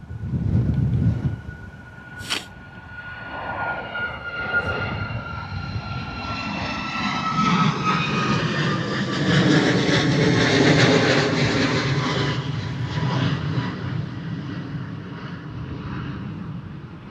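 A jet airliner roars through its takeoff at Bristol Airport on an early, windy morning, the engine noise swelling into a long, broad rumble and then easing slightly as it climbs away, with no talk.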